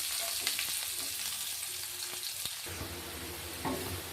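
Onion and green chillies fry in a pan with a continuous hissing sizzle, faint and even, broken by a few light stirring taps.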